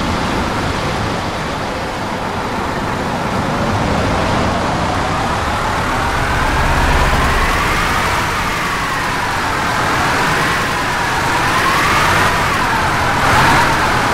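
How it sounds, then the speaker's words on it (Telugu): A bus engine in The Bus driving game drones steadily and loudly for the whole stretch, its pitch rising and falling gently as the vehicle accelerates and eases off, with road noise beneath and no talking. "bus sound"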